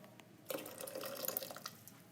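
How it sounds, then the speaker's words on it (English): Water is poured into a glass cup in a trickling stream lasting about a second and a half, faint and close, with no talking. "I got this glass cup, and just pour your water in there"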